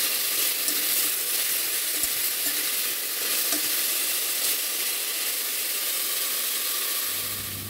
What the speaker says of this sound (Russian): Аккуратно перемешиваем.